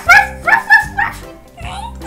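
A dog barks in a quick series of four sharp, high yips close by, followed by a softer whine, loud and clear against a quiet background.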